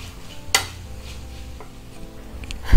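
Onions with salt sautéed in a pan for a Punjabi dhaba-style chicken curry: a soft continuous sizzle, a sharp spoon-on-pan clack near the start, and stirring scrapes that end in a loud knock.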